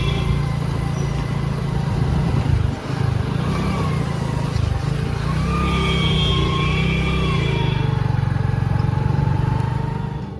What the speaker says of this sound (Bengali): এদিকে কিন্তু আমরা বেরিয়ে পড়েছি বাইকে করে যাচ্ছি